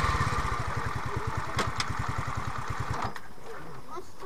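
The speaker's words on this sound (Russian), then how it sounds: "вот так вот мы трогаемся на мопедах" Alpha moped engine revved hard in first gear, with rapid regular firing pulses that break off near the end as it pulls away. The engine sound is loud and close.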